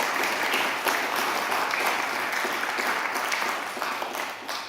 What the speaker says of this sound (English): We'll give him a round of applause in a moment